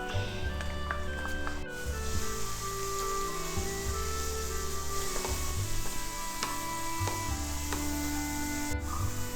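Onions sizzling in hot oil in a pan while cooking a Kerala fish curry with coconut milk, a steady close frying hiss with light stirring clatter throughout.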